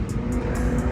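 Infiniti Q60 driving with a steady, loud engine and road roar at close range, a continuous drone with no talking over it.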